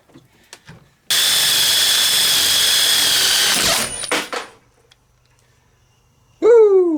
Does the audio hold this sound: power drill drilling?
yes